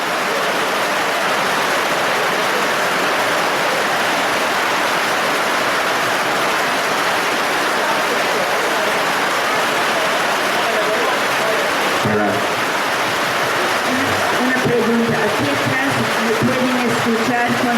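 Heavy rain pours steadily as a dense, loud hiss throughout, with a voice speaking over it near the end.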